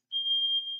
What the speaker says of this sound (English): That is me and my smoke detector.